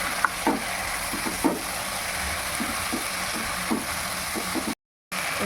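Ground poppy seed paste stirred into a frying pan for Bengali shukto, a spoon or spatula scraping in short repeated strokes over a steady background sizzle, close and moderately loud.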